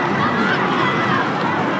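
Football stadium crowd at a women's W-League semi-final between Canberra United and Melbourne City groaning after a shot goes wide, a dense, steady roar of many voices filling the whole moment.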